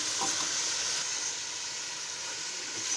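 Beef and mutton chops frying with browned onions in a pot for haleem, a steady soft sizzle and hiss throughout, fairly quiet and close, with no talking.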